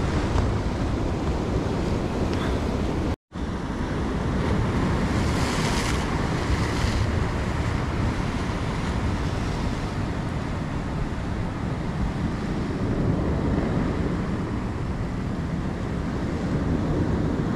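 Sea waves wash continuously onto wet stones along the early-morning coast of Lima, Peru, a steady roaring surf mixed with gusty wind buffeting the microphone, with a brief dropout about three seconds in.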